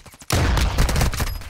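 A sniper rifle shot rings out in the video game DMZ, one loud abrupt blast with a sustained rumbling tail and echo, sounding alone with no talk.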